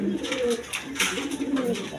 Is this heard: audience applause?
no